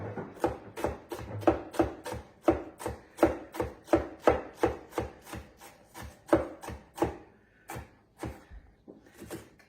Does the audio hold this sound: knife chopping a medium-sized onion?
yes